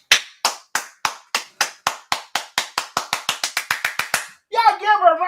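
A single person claps steadily, about twenty sharp, close claps that speed up slightly, then a voice breaks in and the clapping stops.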